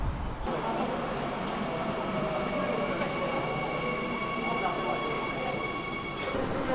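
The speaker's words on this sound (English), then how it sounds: "The next day I took the subway to Anguk to see Michelle." A subway train ride in Seoul: a steady rumbling rush of the moving carriage with faint high tonal whines from the rails and motors, constant throughout with no clear talking.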